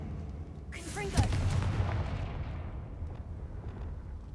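A Confringo spell fires in the Hogwarts Legacy video game, a loud fiery blast with a whooshing, crackling burst and a booming impact, followed by a long rumbling tail that slowly fades.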